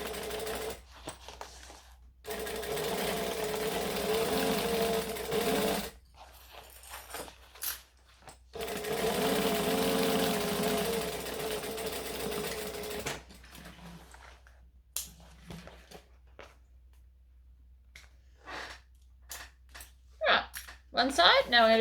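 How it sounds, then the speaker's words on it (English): Sewing machine stitching a garment seam, steady mechanical whirring runs in two long bursts and several short ones, separated by pauses with clicks and handling sounds. "I am going to stitch from seam to seam with a 1/2 inch seam allowance"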